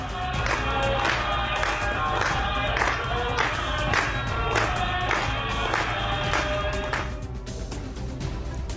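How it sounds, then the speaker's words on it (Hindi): Clapping crowd congratulating a couple at a wedding, steady applause and cheering over a Bollywood song playing loudly, then dropping off near the end. "निकुंज और हरिणी को बॉलीवुड के मशहूर गाने के साथ तालियां बजाकर बधाई दी गई"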